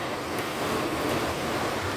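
Typhoon wind in Macau under Signal No. 10 rushes continuously and loudly, a dense unbroken roar with slight swells and no speech.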